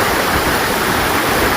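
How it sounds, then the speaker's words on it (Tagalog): A strong current on a river in Mindanao rushes in a steady, loud, broadband roar, close by and with no break. "malakas yung ragasa ng tubig"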